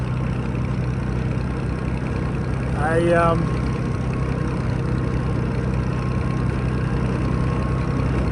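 Massey Harris 92 combine engine running steadily at a constant, droning idle, close and fairly loud throughout, with a brief higher whine rising over it near the middle.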